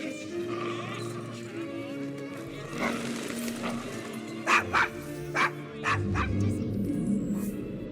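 A dog in the video game Assassin's Creed Syndicate gives several short yips and barks midway through, with whimpering edges, set over a low ambient music bed and indoor game atmosphere.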